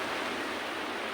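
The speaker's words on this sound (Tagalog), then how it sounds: "yung alon ng dagat. Kunti-kunti lang naman siya" Small sea waves wash onto the beach at Santa Catalina as a continuous broad hiss of surf, close and steady through a brief stretch with no voices.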